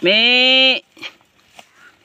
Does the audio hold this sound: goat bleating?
yes